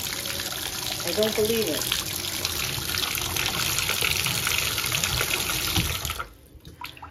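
Water runs steadily into a bathtub fitted with an overflow trip lever, a continuous loud rushing splash that cuts off near the end, with a person speaking briefly over it.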